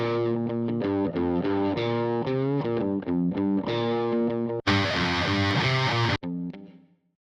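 Distorted electric guitars playing chords in a studio mix, thick and saturated with chorus-like shimmer, loud and continuous before a brief brighter, noisier burst and a quick fade to silence.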